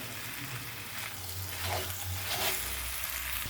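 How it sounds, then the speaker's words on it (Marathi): Garlic and chilli are rubbed and mashed with a copper vessel in a hot iron pan for brinjal bharta. Close, gritty scraping mixes with a soft frying sizzle, and no one talks. "बघा आता तांबे घेऊन असं रगडायचं आहे, लसूण बी रगडून निघतो"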